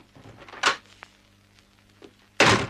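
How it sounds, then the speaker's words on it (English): A door shut as a radio drama sound effect, with a soft thud, then a short pause and a louder, close slam. "I didn't have to shut the door. It was shut for me."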